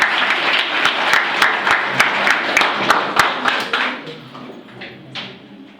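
Group applause welcoming new guests at a Thanksgiving prayer gathering, a steady dense clatter of many hands with sharp individual claps standing out, fading and thinning toward the end.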